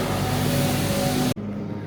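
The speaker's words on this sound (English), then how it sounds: "Unless that's what you can hear now. Getting louder. Cleaning truck." A street cleaning truck's engine rumbles loud and steady close by, a continuous mechanical drone that cuts off abruptly near the end, leaving a quieter hum.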